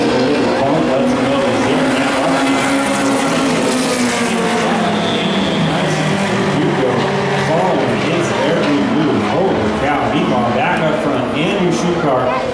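Mini stock race cars roaring around Evergreen Speedway during a heat race, a dense, continuous engine roar with overlapping pitches from several cars, under a track announcer's running commentary.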